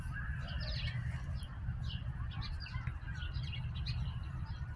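Birds chirp outdoors on a rainy day, with repeated short tweets and calls scattered over a steady background hiss, fairly faint and slightly distant.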